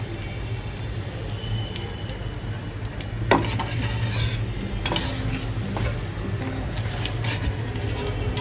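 Pieces of crispy fried chicken sizzle in hot oil with a steady hiss, while a utensil scrapes and stirs the pan in occasional sharp metallic clinks, close up with no talking.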